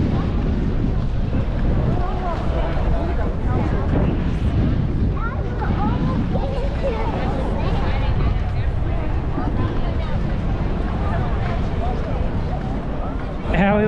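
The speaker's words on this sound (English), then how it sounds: "The wind feels so good." Steady wind roars and buffets the microphone on Airplane Beach in St Maarten, with surf and a cruise ship nearby. The noise is loud and unbroken, and voices talk under it.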